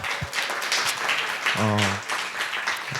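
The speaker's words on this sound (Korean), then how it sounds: "우리 큰 박수로 환영하겠습니다" A church congregation in Sydney claps to welcome two first-time visitors at a Sunday service, a continuous patter of hands mixed with voices and a brief tonal hum partway through.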